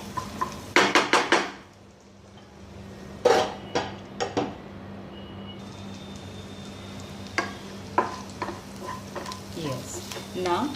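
Onions frying in a pan for an Andhra-style brinjal curry, with a spoon scraping and clanking against the metal in scattered bursts over a constant low sizzle, close by and without speech.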